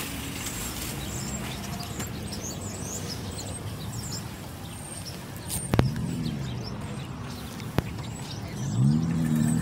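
A parked car left idling outside a building gives a low, steady engine hum, while birds chirp around it, a couple of sharp clicks cut through and a short rising whir sounds near the end.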